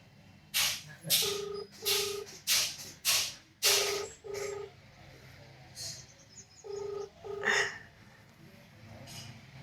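Unanswered phone call ringing in a repeated pattern of bursts, several rings in close succession and then a pause before a few more, with faint background noise.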